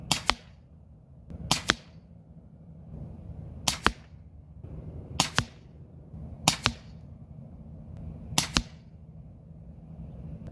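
Air-powered Umarex Air Javelin arrow gun running on an HPA converter at 1500 PSI fires seven times outdoors, each a sharp close snap with a quick thwack, spaced roughly a second or two apart over a low background hum.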